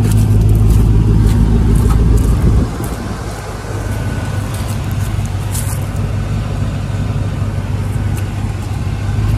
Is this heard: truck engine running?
yes